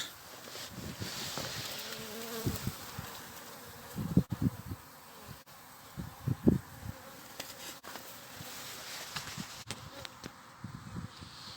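A continuous, dense buzzing of many honeybees close by inside a hive, with occasional louder bumps and knocks standing out over the hum.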